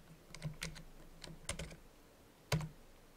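Several quick keystrokes on a computer keyboard tap out a folder name, light clicks in short irregular bursts with a final firmer press, close and quiet with no talking.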